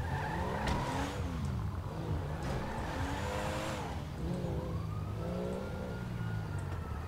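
Large car driven in GTA 5 Online with a steady engine drone and gliding, wavering pitch sweeps like tyre squeal, loud and continuous throughout with no talking.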